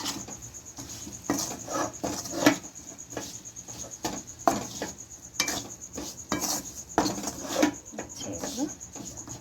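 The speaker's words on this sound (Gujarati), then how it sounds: "હવે આપણે ચણાનો લોટ જે આપણે શેકીને રાખ્યો છે તેને નાખી દઈશું। આ રીતના હલાવી દઈશું।" A spoon scrapes and taps in a pan as roasted gram flour is stirred into okra curry, producing soft irregular scraping strokes at close range under a faint steady hiss.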